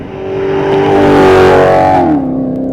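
A sports car's exhaust revs up hard and close, rising to a loud peak before the engine note drops away, with no talk over it.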